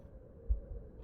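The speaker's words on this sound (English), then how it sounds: "Heartbeat." A faint, low heartbeat thuds in the horror game The Suicide of Rachel Foster, with one soft muffled beat standing out and a weaker one after it, over a dull background hum.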